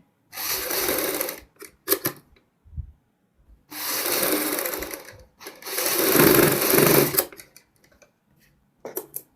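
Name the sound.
sewing machine stitching a kurti front neck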